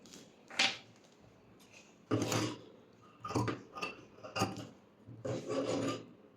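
Scissors cutting fabric for a one-year-old baby's pattu pavadai dress, heard as several short rasping snips and rustling strokes spread irregularly across a quiet room.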